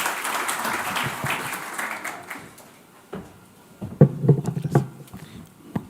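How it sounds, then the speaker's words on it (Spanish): Audience applause at a conference on pension reform and alternative assets, a moderate burst of clapping that fades away, followed by scattered close taps and handling noises. "un aplauso para él"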